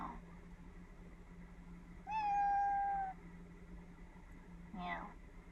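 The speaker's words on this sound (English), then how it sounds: "this is a virtual cat lives within Echo" A virtual cat voiced by an Alexa Echo skill gives one clear sustained synthetic meow, followed a couple of seconds later by a shorter fainter mew over a low electronic hum.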